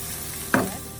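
Garlic and ginger sautéing in a pan for a chicken stir-fry with pineapple and cashew nuts, heard as a single brief stir that sets off a short burst of sizzle mid-clip before settling back to a quiet background hiss.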